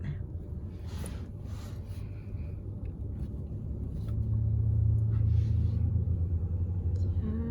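Low, steady road rumble of traffic heard from inside a stuck car, growing a little louder partway through as a nearby engine idles or creeps, with no talk over it.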